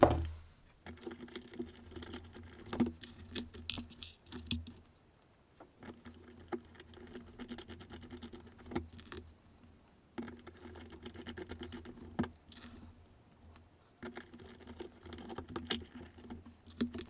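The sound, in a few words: lock pins dropping into pinning block chambers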